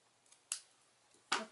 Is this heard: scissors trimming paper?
yes